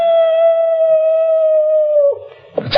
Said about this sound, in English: It sounds like one of our dogs.